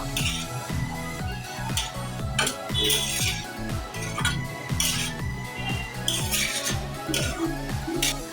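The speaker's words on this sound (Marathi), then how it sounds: "शिमला मिरची पण घेतलेली आहे त्यानंतर आपण आता घालतोय कांद्याची पात ते सगळं परतवून घेऊया" Capsicum and spring onions stir-fried in a pan for Indo-Chinese chilli paneer, a brisk repeated scraping and clanking of a spatula against metal in an uneven rhythm over a low sizzle, close and continuous.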